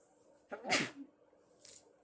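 A single sharp sneeze up close, a quick inhale and burst, followed by a faint sniffle.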